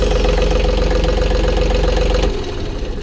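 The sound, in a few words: John Deere 4105 tractor engine running with an exhaust leak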